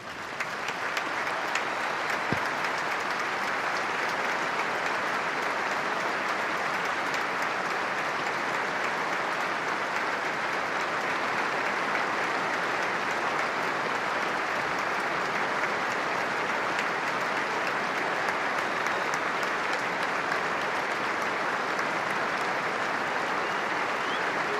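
A stadium crowd gives a sustained minute's applause before a football match, a steady dense roar of clapping that holds evenly from start to finish with no talk over it.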